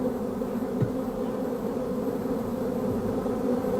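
A steady, low buzz from a bee building a mud nest in the Atacama Desert drones continuously close by, like hovering, with no voices.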